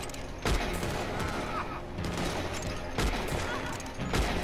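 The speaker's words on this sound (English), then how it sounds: "There's someone shooting at me now." Repeated gunfire in a Red Dead Redemption 2 Online bank robbery, with shotgun blasts among it, sounds as a dense, continuous fusillade. Sharper bursts land roughly every second and a half, and voices are heard faintly in the mix.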